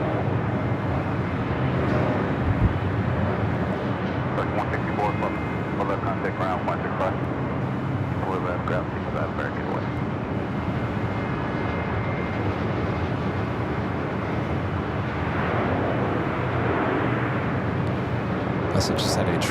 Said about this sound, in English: Japan Airlines Streamliner, rolling down to 25 right.